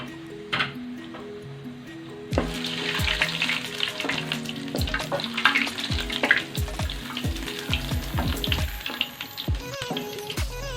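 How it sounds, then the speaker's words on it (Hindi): Masala spices hit hot oil for a chicken and white chickpea curry: after a quiet start, a sudden loud sizzle bursts up and keeps crackling, punctuated by frequent sharp spatula taps against the pan. "अब हम ये इसका मसाला डालेंगे ऑयल में।"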